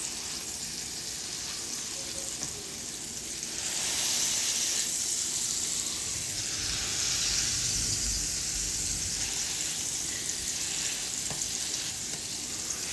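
Four large burgers sizzle in a pan, a continuous loud crackling hiss close by that swells and grows denser partway through and keeps going steadily, with no talking.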